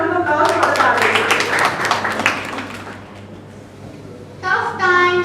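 A school audience at an English declamation contest gives a round of applause, loud at first and then thinning out, before a speaker's voice begins near the end.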